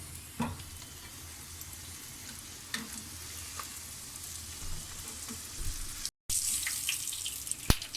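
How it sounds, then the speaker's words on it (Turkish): Constant bright hiss and crackle of Turkish cheese-filled half-moon pastries frying in hot oil, with occasional clinks and a brief gap before the sizzling resumes. "Şimdi böreklerimi kızartıyorum."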